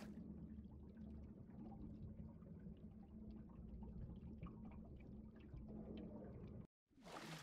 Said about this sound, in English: Oh, what's up with the water in this pipe?